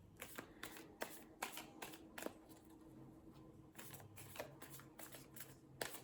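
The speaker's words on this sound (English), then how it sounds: "God, I love shuffling cards." Tarot cards being shuffled by hand, a series of crisp riffling bursts in an uneven rhythm with soft shuffling between, close and moderately quiet, with no speech.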